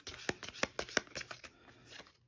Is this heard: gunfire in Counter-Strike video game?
no